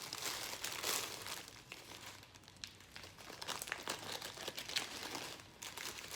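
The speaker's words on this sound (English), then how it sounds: "open up the ramen package, open up your plastic bag and stick the ramen noodles inside there" A plastic bag and a ramen package crinkle and rustle in close, irregular bursts as dry ramen noodles are pushed into the bag.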